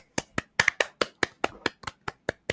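A single person's hands clapping in a steady rhythm, about a dozen sharp, close claps evenly spaced with no other sound between them.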